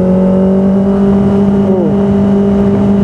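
A Kawasaki ZX-25R Limited Edition engine screams at high revs, with a loud, steady high-pitched whine that dips briefly partway through, then holds.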